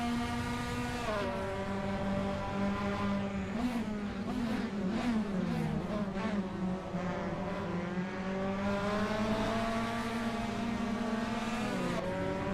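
Sim racing cars launching at a race start at Sydney Motorsport Park, a loud pack of engines droning together with rising and dipping pitch as they accelerate through the gears, no voices over it.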